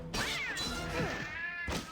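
Cartoonish cat meows and yowls from the Sphinx and the Cursed Mummy video game, rising and falling over about two seconds with thumping hits and swishes mixed in, fairly loud and close with no talking.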